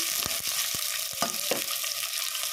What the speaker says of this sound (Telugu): ఉల్లిగడ్డ పచ్చిమిర్చి వేసుకొని వేగాలి